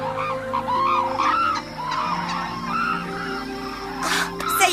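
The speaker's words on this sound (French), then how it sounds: "Corina communique avec les oiseaux de la même manière que Zoé est capable de comprendre le langage des chats." Cartoon birds in a French-dubbed animated series chirp and squawk in a rapid, overlapping flurry of short calls over a steady background tone.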